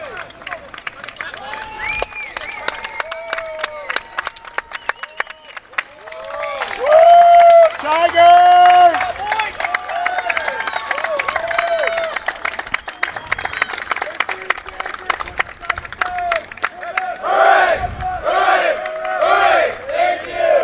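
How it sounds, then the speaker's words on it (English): Clemson men's rugby players and fans cheer and clap together after a match against Georgia, a loud outdoor crowd of shouts, whoops and applause rising and falling over twenty seconds with chanting voices mixed in. "We're going to hang tight here while they give the cheers."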